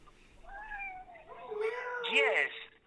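A cat meows several times in rising, drawn-out calls, close and clear, with a voice speaking around it.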